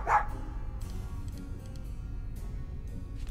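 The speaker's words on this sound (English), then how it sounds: "did you bring a dog in here?" A single short bark from a dog in the Tales of Monkey Island video game, heard briefly at the start over a low, steady game ambience.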